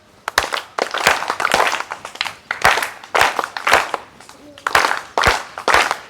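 Children clapping together during a school PT drill, sharp claps in short rhythmic bursts with brief gaps, close and loud.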